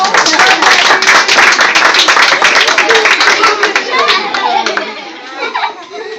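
Young children at a Hanukkah class performance clap their hands loudly in quick bursts amid excited chattering voices, the clapping thinning out and voices dropping off toward the end.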